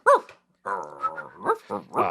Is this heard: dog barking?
yes